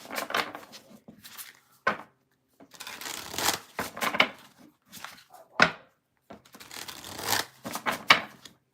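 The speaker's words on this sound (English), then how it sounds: "Few more decks to shuffle and we will move on to water." Tarot card decks being shuffled at close range in several bursts of riffling and flapping, separated by short pauses and soft knocks as the cards are squared up, with no voices.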